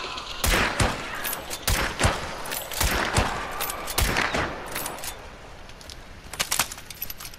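A rapid series of sharp gunshots rings out in the Hunt: Showdown video game, irregular bursts of loud cracks, some clustered close together, with brief pauses between volleys.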